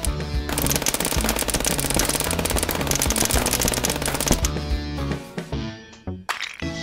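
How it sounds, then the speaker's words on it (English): Rapid machine gun fire in the FPS Chess video game, a loud unbroken stream of shots lasting about five seconds, then a few scattered bangs and clatter as it trails off. "Oh my gosh, I get a machine gun."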